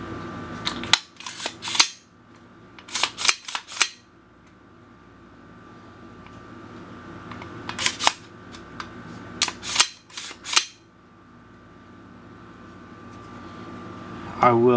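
Sharp mechanical clicks from a firearm's action and trigger during a function check after cleaning and reassembly, in several close clusters spaced across the clip over a quiet room hum.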